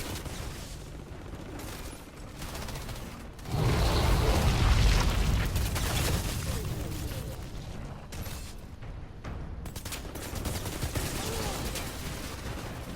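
Combat in the video game Outriders, with dense bursts of automatic gunfire and heavy booming impacts that swell loudly a few seconds in and keep rattling on through the rest of the fight.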